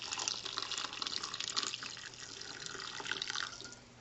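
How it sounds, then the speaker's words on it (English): Water poured slowly and steadily over yerba mate in a mug, a continuous close splashing trickle with no talk. "And then I'm going to go ahead and pour the water slowly on top."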